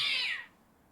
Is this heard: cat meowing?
yes